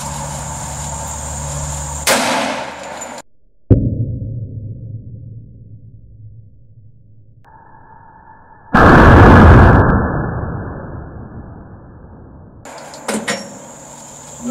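A Remington RP45 .45 pistol fires into body armor, with a sharp loud report near the start, another burst in the middle, and a few quieter impacts and clatter toward the end.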